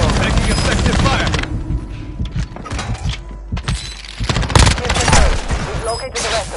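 Dense automatic gunfire and explosions in Call of Duty Warzone 2, loud and close, coming in rapid bursts with brief lulls over a steady rumble of combat.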